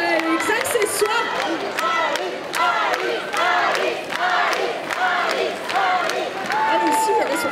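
A convention audience at the Bordeaux Geekfest cosplay parade cheers and claps loudly for the cosplayers in rolling waves of crowd noise, with an announcer talking over the din.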